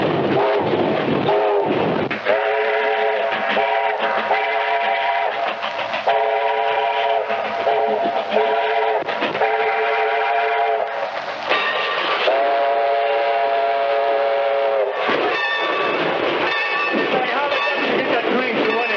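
A steam train whistle sounds repeatedly in long, harmonious blasts over the heavy chugging and rattle of a moving train, loud and close, with voices mixed in.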